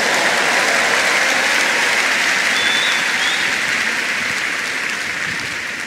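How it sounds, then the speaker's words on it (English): A church congregation claps continuously and loudly, a dense, steady wash of many hands that fills the whole stretch and fades only slightly toward the end. "Come on, give the Lord a bigger clap."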